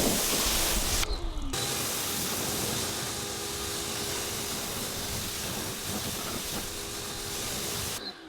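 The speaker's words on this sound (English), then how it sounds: "the next step is to literally just rinse down the vehicle" A water spray rinses down a black Fiat Abarth car during exterior detailing, making a loud continuous hiss that cuts out briefly near the start and again at the very end.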